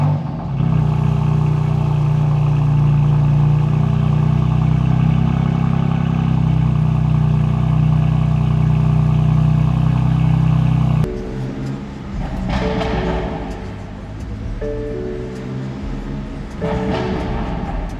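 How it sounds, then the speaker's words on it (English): A 2018 BMW M4 engine idles on a cold start with a loud, steady low rumble, then the tone shifts and it revs up in a few rising bursts. "I haven't done a cold start yet today"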